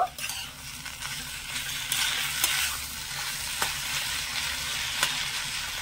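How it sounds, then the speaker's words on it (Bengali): Cauliflower filling with chopped green chilli, coriander leaves and sugar being stirred and fried in a pan over medium heat, a steady close sizzle with scraping spoon strokes and a few sharp clinks against the pan. "এই সবকিছু ভালো করে মিশিয়ে নেড়ে চেড়ে আমি আবারও 1 থেকে 2 মিনিটের জন্য মিডিয়াম আঁচে একটু ভেজে নিয়েছি"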